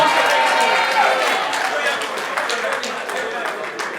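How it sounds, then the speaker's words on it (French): At a wedding, guests clap loudly and steadily for a lady, with crowd chatter and voices running under the dense, sustained applause. "applaudissez très fort pour la dame"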